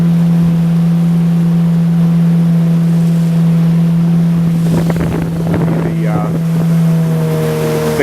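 A motorboat engine drones steadily and loudly on the Yukon River at Miles Canyon, with wind buffeting the microphone, and a brief voice breaks in partway through.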